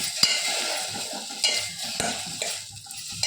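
A spoon stirs food sizzling in a pan, with scraping and a few sharp clinks of metal against the pan over a steady frying hiss.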